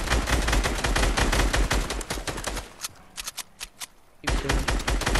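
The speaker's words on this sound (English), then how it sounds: "Shoot him down." Rapid automatic gunfire in a shooting video game rattles in a dense, loud burst, thins to a few scattered shots, then resumes at full intensity.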